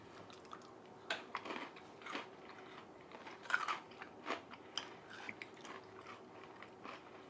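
Crunchy chewing of tiny peanut butter filled pretzels, close and quiet, with a steady series of small bites and crunches over several seconds.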